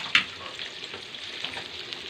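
Chopped onion and chili sauté in a pan, making a brief, steady close-up sizzle with a sharp utensil tap at the start.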